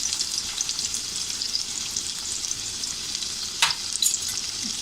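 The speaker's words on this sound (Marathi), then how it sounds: "थोडं आपल्याला हे परतून घ्यायचं आहे कांदा" Onion sizzles in hot oil with curry leaves in a Malvani fish curry, a steady bright frying hiss running throughout with a brief louder crackle near the end, close and alone.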